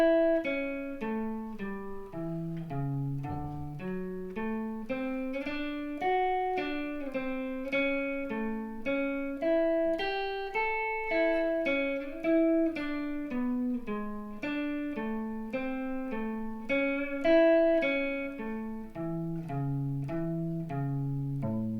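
A guitar plays steady single-note arpeggios over two octaves, climbing and falling evenly paced and moderately quiet, with no talking.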